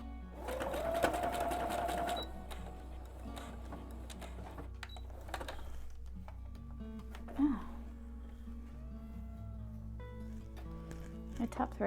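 A sewing machine stitching two fabric straps onto the front of a garment made from a Butterick 4987 pattern, in short whirring bursts separated by pauses, close by, with a voice talking at times.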